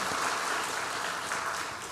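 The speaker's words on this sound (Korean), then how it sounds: "박수하겠습니다." Steady applause from a church congregation during a Sunday service, a dense even patter of many hands clapping that holds for a couple of seconds and tapers slightly at the end.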